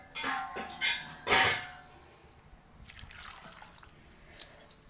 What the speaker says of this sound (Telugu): ఒక గ్లాస్ ఆఫ్ వాటర్ పోసి